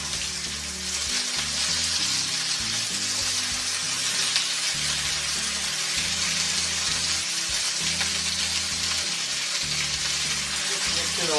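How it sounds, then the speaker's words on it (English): Potatoes fry in mustard oil in a pan, giving a steady close hiss and crackle of sizzling that lasts the whole time, with occasional stirring. "Let your nose get intoxicated by the lovely smell of mustard oil frying."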